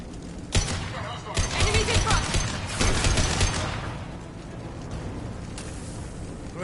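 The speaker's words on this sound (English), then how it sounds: "Blue Suns and Vorcha shooting anything that moves." Mass Effect 2 combat erupts in sustained gunfire, with loud bursts of rapid automatic shots and sharp cracks filling the first few seconds before tapering off into quieter shooting and rumble.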